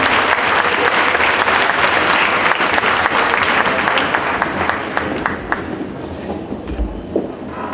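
Loud, sustained applause from a conference audience welcoming an architect to the podium for an international talk, dense clapping that thins slightly toward the end.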